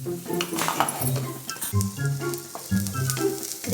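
Chopped onions browning in a hot pan for restaurant-style pav bhaji give a steady sizzle and crackle, with occasional clinks of a utensil, under continuous tonal background sound.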